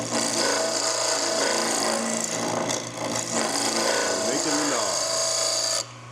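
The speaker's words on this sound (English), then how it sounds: "I can clean that up with files and" A file rasps steadily across a turned wooden door knob, a continuous bright scraping that runs for several seconds before stopping abruptly near the end.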